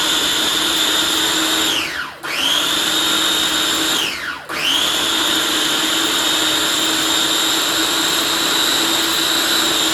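A food processor whirs loudly and steadily as it churns cream into butter, its high motor whine dipping twice when the machine briefly stops, then spinning back up to full speed.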